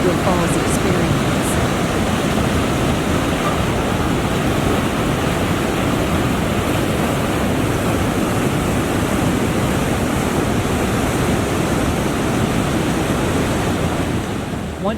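Niagara Falls thunders in a constant, dense roar of falling water, loud and close with wind buffeting the microphone, unbroken from start to finish.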